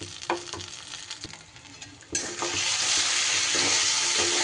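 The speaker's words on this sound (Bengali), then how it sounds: "এবার খুব সুন্দর মতো করে ডালটাকে কিন্তু নাড়িয়ে চাড়িয়ে বেশ ভাজা ভাজা করে নিতে হবে" Lentil paste fries in a pan with cooking for a traditional ash gourd shukto with shiuli leaves; quiet stirring clatters first, then a loud, sustained sizzle bursts in as the paste hits the hot oil and keeps hissing.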